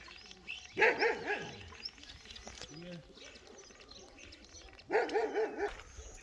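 An Alabay dog barks in two loud bursts of several barks each, near and prominent, on a village walk with faint background sound between the bursts.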